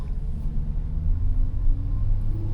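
A low, rumbling sports car exhaust idling nearby, deep and steady with slight throbbing pulses.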